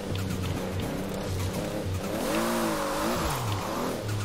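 Tires squeal as a Toyota Supra drifts in Forza Horizon 4, a loud wavering screech sliding over the continuous engine drone, with brief pulsing revs around it.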